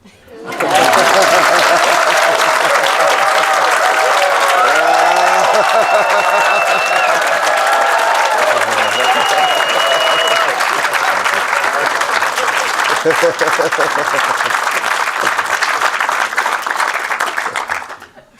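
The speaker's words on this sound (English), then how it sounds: "let's clap for him." Sustained audience applause at a Buddhist teaching session, loud and dense clapping that rises quickly, holds steady for about seventeen seconds, then fades, with a few voices and light laughter mixed in.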